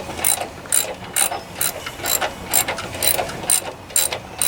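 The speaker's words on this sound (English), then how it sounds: "Time to get these motor mount bolts in." Rapid ratchet clicking in repeated bursts while engine motor mount bolts are tightened on a Kohler Courage engine, close and steady with brief pauses between strokes, no talking.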